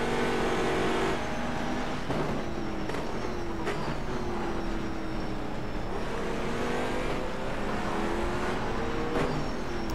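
Race car engines in rFactor 2 at Silverstone, a GT4 car among them, drone loudly and steadily for the whole stretch with gear-shift dips and rising pitch sweeps as cars accelerate and jostle.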